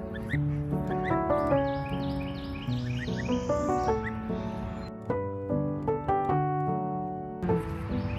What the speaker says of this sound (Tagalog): So yan na yung aming Toulouse geese.